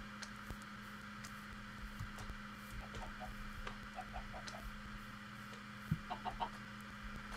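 Soft chicken clucks from Minecraft, a few faint short clucks scattered over a steady low hum, with a couple of slightly louder clucks near the end.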